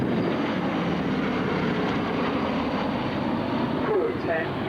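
Propeller aeroplane with gun turrets and a crew of ten flying at the 1996 Shoreham airport airshow: a steady, loud droning engine roar throughout, with a voice talking over it.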